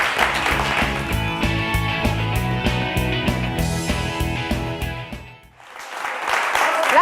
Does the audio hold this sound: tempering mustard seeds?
no